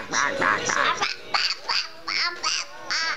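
A string of short, raspy quacking bird calls, about a dozen in uneven bursts, close and fairly loud with brief gaps between them.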